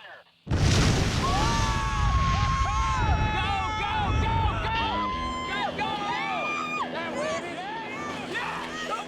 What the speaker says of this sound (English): It was a huge explosion